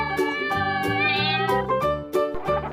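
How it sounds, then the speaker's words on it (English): A cat meows once in a rising, drawn-out call, set over a steady musical backing with rhythmic beats. "Cat, cat,"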